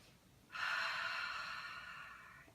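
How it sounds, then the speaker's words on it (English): A single long, deep breath drawn in during a guided meditation, a breathy hiss that swells in after a quiet half-second and slowly fades over about two seconds, close and alone. "Let's take another deep breath."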